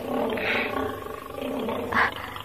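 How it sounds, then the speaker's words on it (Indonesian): A tiger's roar plays as a sound effect in a radio drama, a low sustained growling rumble with a louder rising snarl near the end, heard alone without speech. "Ada raungan harimau."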